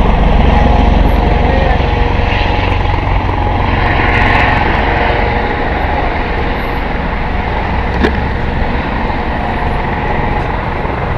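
Aircraft flying overhead near Roseburg, Oregon, a loud, steady engine and rotor drone that stays close throughout, with faint voices in the background.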